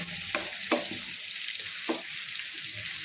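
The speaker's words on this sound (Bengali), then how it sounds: "এটাকে ফ্রাই করবো ভালোভাবে" Rui fish for bhorta fries in a pan with a close, steady hiss and sizzle, broken by a few soft pops and stirring scrapes.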